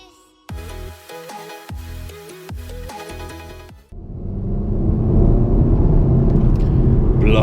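A Volkswagen Golf GTI revs through quick rising gear pulls, then settles into a loud, steady, close engine roar as the car drives and accelerates.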